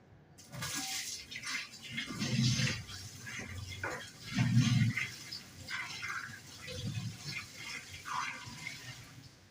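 Slightly hot water is poured into a washing machine drum during a tub cleaning with detergent powder, giving a splashing, gushing flow that surges in several bursts over a steady wash of water noise.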